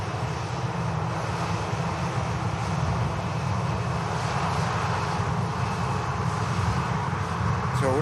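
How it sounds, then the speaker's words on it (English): Aircraft at Manchester Airport, a loud sustained jet engine roar with a broad rumbling drone that holds steady throughout, heard from outdoors at a distance. "So we'll expect the next aircraft to touch down"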